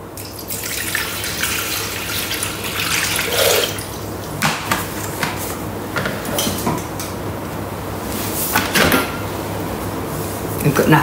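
Water poured into a Thermomix bowl, a litre and a half for a bao bun dough, with a steady running splash that surges in bursts over several seconds, close and fairly loud.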